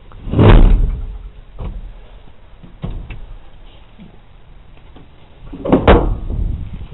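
In a 1981 Ford Bronco, a seat latch is pulled and the seat slides back, heard as close loud clunks and knocks with a sliding rumble, a short quieter stretch, then another heavy clunk.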